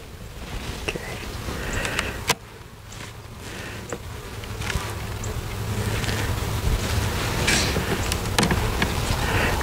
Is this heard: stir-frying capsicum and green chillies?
no